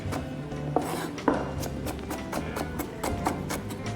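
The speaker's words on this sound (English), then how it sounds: "Now we have peeled the stem. Let's slice it roughly." A knife slices roughly through a peeled broccoli stem on a board, giving several short, close cutting taps spaced unevenly, with faint clinks and rubbing between them.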